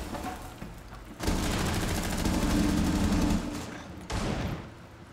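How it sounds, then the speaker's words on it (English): Sustained automatic gunfire from a first-person shooter video game, a rapid continuous burst of shots that swells loud for a couple of seconds, eases off, then resumes in another close volley. "Give me some covering fire."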